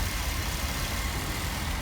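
A car engine idles during a test drive while waiting at a traffic light, a low, even rumble that holds steady and close with nothing else over it.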